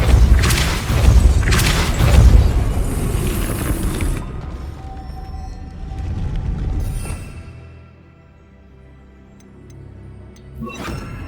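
A Depulso spell strikes in Hogwarts Legacy, opening with heavy, booming blasts that roll on for several seconds, then fading to a low rumble and ending in a short, sharp crash near the end. No one speaks.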